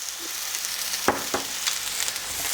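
Stir-frying in a hot pan with sesame oil, a steady bright sizzle with a couple of louder scraping stirs of the food, no talking.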